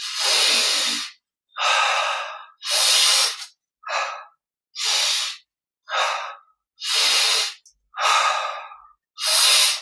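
Deep breathing in and out during a guided yoga exercise, nine separate breaths each about a second long, close and clear, with short silences between them.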